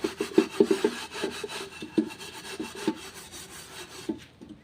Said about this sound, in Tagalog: Yan, kunting kuskus pa.